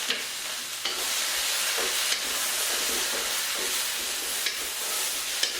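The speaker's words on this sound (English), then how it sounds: "Now stir that up." Food stirred in a hot wok: a continuous loud sizzle and hiss with periodic scraping strokes of a utensil against the metal, close and steady throughout.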